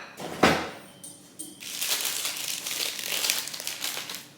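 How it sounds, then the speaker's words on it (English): Chocolates are unwrapped from their wrappers, making a sharp crinkle at the start followed by a short pause and then a longer run of close, continuous rustling and crackling. "I need to unwrap them and then rewrap them for him."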